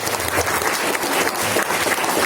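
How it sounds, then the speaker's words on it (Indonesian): A seminar audience at a vocational school gives a sustained, dense round of applause, steady and fairly loud throughout, with no break in the clapping. "Tepuk tangan sekali lagi."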